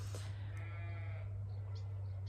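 Sheep bleating near a shut feedlot gate on a fenced farm, a faint distant call or two over a steady low engine-like hum, with no talk.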